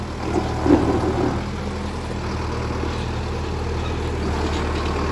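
A tractor engine labours under heavy load while standing in for a truck, giving a steady, loud low rumble that holds evenly throughout with a slight surge near the start.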